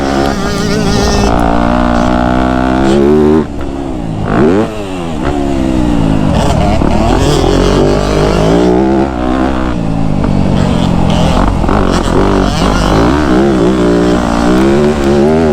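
A Yamaha YZ125 two-stroke dirt bike on a motocross track, its engine loud and close, revving hard and continuously with rising and falling pitch as it accelerates and shifts.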